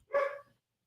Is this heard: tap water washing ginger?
no